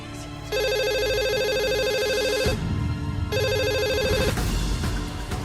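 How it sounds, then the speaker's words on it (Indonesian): A telephone rings loudly in two long electronic bursts separated by a short gap, clear and close with no talking over it. "Bah, cepet Abah itu telepon si Roy bah"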